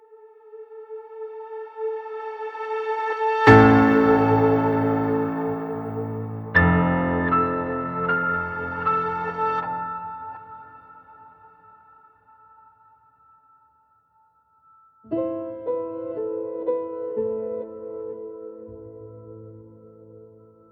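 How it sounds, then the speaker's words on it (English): Piano processed with delay, reverb and tape saturation plays sustained chords and melody notes, with a struck entry, a second phrase, a fade to near silence, then a final chordal phrase, fairly loud and alone. "But the piano section on its own sounds a bit like this."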